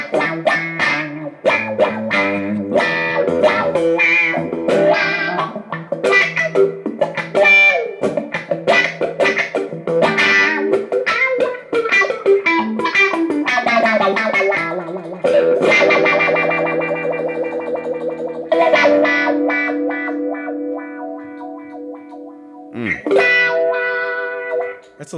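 An electric guitar through an original 1970s Big Chutch talk box, vowel-like wah shapes on funky riffs, loud and close with sustained distorted notes.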